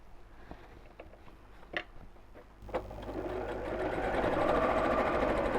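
A sewing machine topstitches along the edge of a tote bag seam, starting with a few separate clicks from the hand wheel and then settling into a steady, close mechanical whir that grows slightly louder as it runs.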